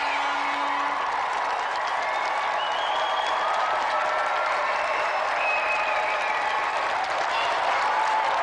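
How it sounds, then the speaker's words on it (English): Studio audience applause on a video-game TV show, loud continuous clapping from a crowd with a few scattered cheers and whoops, sustained evenly throughout. "let's have a round of applause for our gallant challenger, Doug Jones!"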